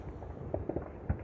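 Fireworks go off at night over a city near Denver airport. A few soft, distant pops and thuds are heard under a steady outdoor background hiss.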